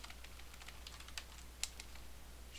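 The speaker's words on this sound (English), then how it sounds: "So let's just type that under here." A computer keyboard is typed on in a quick run of soft, light clicks with one or two sharper keystrokes, fairly quiet against a low hum, with no talking.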